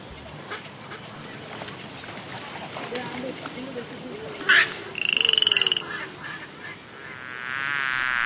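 Frog croaking outdoors, a fast raspy pulsing call in a short burst amid a faint buzzing insect and ambient background, moderately near, with a smoother trilling tone at the end.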